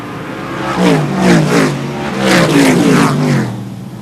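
Race cars on a short oval track roar past in a continuous loud engine drone, with revs rising and falling in waves as the field circles close by.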